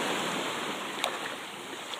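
Ocean surf washes onto a beach as a broad, steady roar of breaking and receding waves, with some wind buffeting the microphone and a couple of faint brief sounds, no talking.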